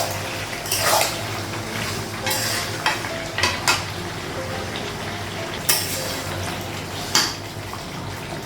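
Potatoes frying in a pan give a steady sizzle, broken by several sharp scraping and clinking stirs of a utensil against the metal, all heard up close.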